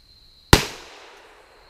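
A single sharp shot from a small Glock pistol at an outdoor shooting session, loud and close, with a short decaying tail and no talk.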